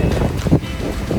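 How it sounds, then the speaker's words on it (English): Strong wind gusts across a beach with a thunderstorm approaching, roaring loudly and continuously against the microphone as a dense, low, buffeting rush with no voices. "There's so much wind out here, it's so windy."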